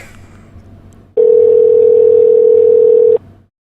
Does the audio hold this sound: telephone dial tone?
yes